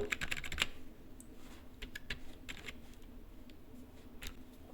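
Someone types Arduino code on a computer keyboard, with quiet, close, irregular key clicks coming in quick clusters and scattered single taps over a low room hum.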